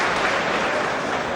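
Crowd applause at a World Pool Championship quarter-final match in 2004, a steady dense wash of clapping filling the whole moment without pause, loud and fairly close.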